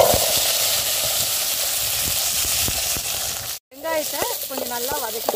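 Small shallots (sambar onions) sizzling and frying in hot oil in a pan for garlic kulambu, a steady loud hiss with crackles, briefly cut off, then continuing while a voice talks over it.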